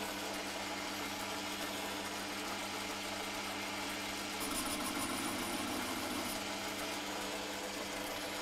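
A Holzmann ED 750 FDQ lathe turning a stainless steel tube gives a steady mechanical hum and drone at moderate level, becoming slightly rougher midway as the cut engages; no speech.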